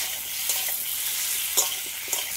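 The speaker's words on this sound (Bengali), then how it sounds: "সব একসাথে একটু ভালো করে কষিয়ে নেব" Fried taro sautéed with snakehead fish in a pan, soft continuous sizzling with a few sharper stirring scrapes, close and alone without speech.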